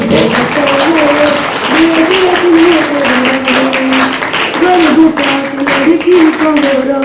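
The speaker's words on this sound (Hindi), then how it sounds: "विशेष ताली से स्वागत करेंगे" Audience clapping to welcome performers at a Vedic Gurukul Republic Day celebration, rhythmic applause that carries on beneath a voice singing or chanting in the foreground.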